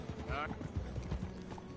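Horse hooves clip-clop in a steady walking rhythm in Red Dead Redemption 2, soft and continuous beneath faint game ambience and mechanical clatter.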